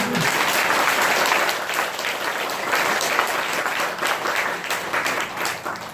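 Loud, dense applause from a temple congregation during a Buddhist dharma talk, sustained for several seconds with only slight dips in intensity and no voices over it.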